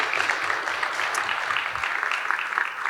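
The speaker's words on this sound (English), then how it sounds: "So let's give them a big round of applause." An audience at a commercial laundry industry event gives sponsors a round of applause, steady and fairly distant, filling the whole stretch.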